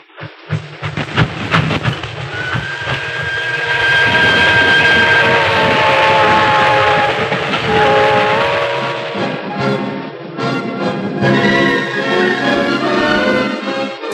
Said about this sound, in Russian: со всех концов страны пошли поезда с подарками городу-герою